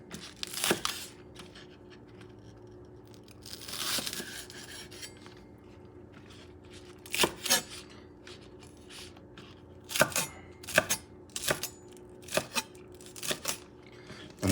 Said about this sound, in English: I have some green onions. Let me cut some of that